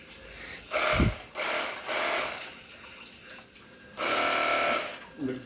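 A battery-powered water pump used for washing cars and motorcycles sprays water in several distinct bursts of hissing spray, each a second or so long, separated by short quiet gaps, close to the microphone.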